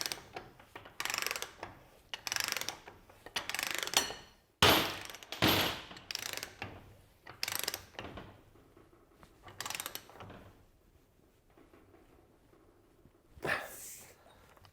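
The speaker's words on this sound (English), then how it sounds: "using a suitable socket and bar, you're going to run the nut up first until it actually makes contact with the pitman arm" Socket and bar turning a nut up onto a vehicle's steering pitman arm, giving close, irregular bursts of metallic ratcheting and clicking with short pauses, loud at first and thinning out toward the end.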